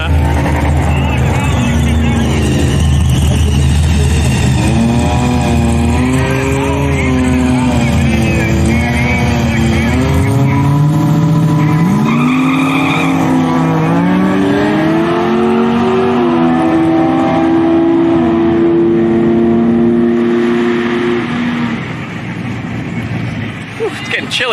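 A car doing burnouts at a Powercruise event in Sydney, its engine revving hard in loud, sustained rising and falling pulls, with voices talking over the noise throughout.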